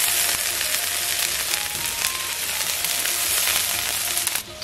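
Ox liver with chili sauce sizzling loudly in a hot pan as water hits it, a steady dense crackle and hiss that holds throughout, close up, before fading at the very end.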